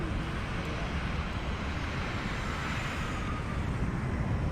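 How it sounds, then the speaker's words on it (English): A fixed-wing airplane flies past a hot air balloon over Phoenix, Arizona, a steady broad engine roar holding evenly throughout with no voices over it. "Oh, I got an airplane coming my way"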